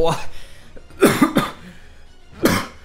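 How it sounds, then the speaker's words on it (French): Two quick harsh coughs in a row after sipping a strong drink, followed by another single cough a moment later, close and loud. "J'ai même pas goûté que je tousse déjà."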